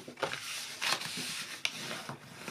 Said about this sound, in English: Then I'm going to fold and burnish all these score lines with my bone folder.